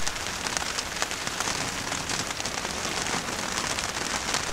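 Steady rain drums on the coach roof of an anchored sailboat, heard from below deck as a dense, even patter of close droplets with no pauses or voices.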